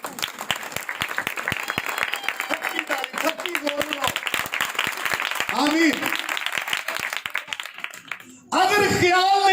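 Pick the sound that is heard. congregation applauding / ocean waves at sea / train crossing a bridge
congregation applauding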